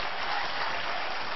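Steady applause from an audience at a comic poetry recital at Career Point University in Kota, a dense, even wash of clapping that holds at the same level throughout without pauses.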